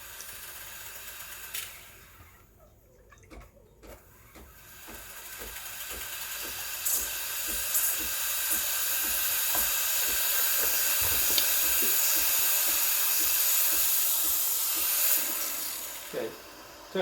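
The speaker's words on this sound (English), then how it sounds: "Turn on the steam. It'll take about 10-15 seconds to start steaming." A Breville Barista Express BES870 steam wand builds from a brief lull into a loud, steady hiss, with faint ticking and rattling mixed in.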